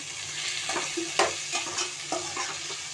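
Eggplant and drumstick pieces sautéing in a pan for a milk shark curry, with a steady sizzle broken by several soft stirring scrapes and clinks close by.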